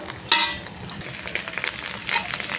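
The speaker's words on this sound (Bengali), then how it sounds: "আমি এবার ঢেঁড়সটাকে ভেজে নেব" Okra (ladies' fingers) frying in a pan for a potato-and-okra dish, a steady close sizzle with a few sharper crackles and stirring scrapes throughout.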